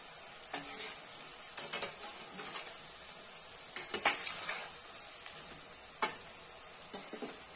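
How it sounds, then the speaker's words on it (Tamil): Potato popcorn frying in a pan while being stirred gently, a steady soft sizzle with scattered scraping and clicking strokes of the utensil, close and fairly quiet, with no talking. "இப்படி மெல்ல கிளறி கிளறி விடணும்."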